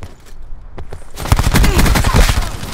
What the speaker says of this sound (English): Cluster grenade. Enjoy.